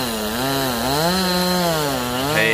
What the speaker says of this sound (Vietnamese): anh cưa cái đoạn thân dưới đây